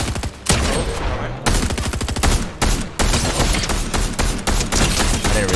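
Rapid automatic gunfire rattles in a video game in loud, nearly continuous bursts with a few short breaks.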